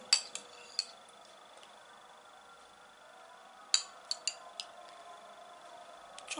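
A metal spoon clinks against a dish while sauce is poured onto homemade lahmacun made from ready yufka, giving a few faint, sharp taps in small clusters over a quiet kitchen background.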